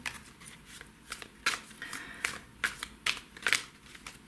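A deck of tarot cards is shuffled and gathered up by hand: a quick series of crisp riffling flicks and papery slaps, close and fairly quiet, with no voice.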